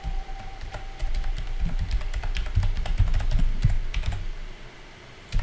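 A URL being typed on a computer keyboard, a quick irregular run of close, crisp key clicks and taps that continues for several seconds before stopping.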